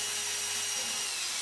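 Power drill boring holes through a sluice box riffle plate made from expanded metal, a steady continuous whine held for the whole moment, close and loud with no talking.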